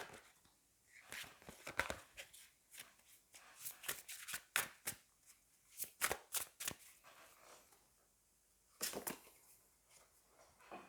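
Oracle cards being shuffled by hand, a series of quick, crisp riffling and slapping bursts in irregular clusters, close and fairly quiet with short pauses between.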